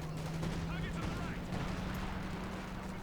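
Mortar and artillery fire in the strategy game Company of Heroes 2, a 4v4 match on Lienne Forest, with a mortar carriage shelling an artillery officer; a dense, continuous rumble of distant gunfire sits under a steady tone and a commentator's voice.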